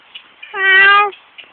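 A parrot gives one clear, close imitation of a cat's meow, a single loud drawn-out tonal call lasting about half a second, with faint background sounds around it.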